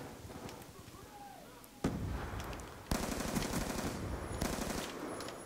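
Automatic gunfire from the video game Call of Duty Black Ops 2, in a kill confirmed match: several loud sustained bursts of rapid shots that cut in sharply, with in-game sounds underneath.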